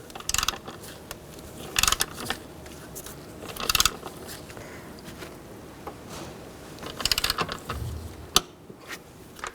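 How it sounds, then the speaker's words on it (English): A torque wrench tightens bolts to 18 foot-pounds on a 2010-16 Buick Lacrosse during a spark plug replacement. Several short bursts of ratcheting clicks are separated by quiet pauses, close up, with no talking. "Now we're going to torque these bolts for the first pass to 18 foot-pounds."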